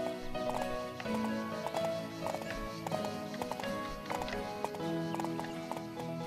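Horse hooves clip-clopping in the video game Horse Life, a steady trotting rhythm over looping game music with occasional soft thuds, continuous and moderately loud.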